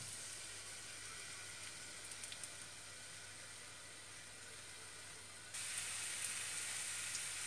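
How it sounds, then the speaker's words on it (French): Garlic frying in hot oil for an Indian-style vegan eggplant rice pilaf, a steady, faint sizzle and hiss that brightens and grows slightly louder partway through. "De l'ail dans l'huile qui est chaude."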